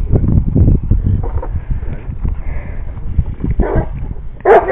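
A 16-month-old dog barks and yips repeatedly in quick bursts during bite work training, close and loud, with some whimpering sounds mixed in and a short burst of noise at the end.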